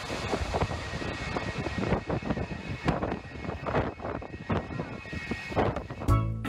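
A KLM Boeing 747 passes low over Maho Beach on St Maarten, a broad roaring engine rumble mixed with gusty wind noise across the microphone, steady and loud with a heavier low surge near the end.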